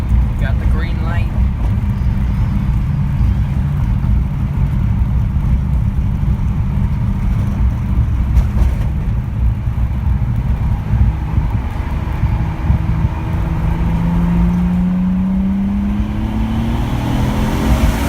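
RB26-swapped Nissan 300ZX accelerating hard under boost, a loud steady engine roar with heavy wind buffeting and a rising tone near the end, close up from inside the car.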